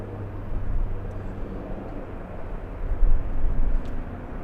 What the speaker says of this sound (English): So this Delta is going to Orlando. That is the Orlando flight.